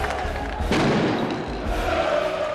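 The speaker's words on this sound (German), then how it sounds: "Die HSV-Fans scheinen den Schutz der Polizei nicht zu schätzen und werfen mit Böllern und Feuerwerkskörpern" Hamburger SV football fans set off firecrackers and fireworks near police, sharp bangs and thuds bursting over a loud, roaring crowd with shouting throughout.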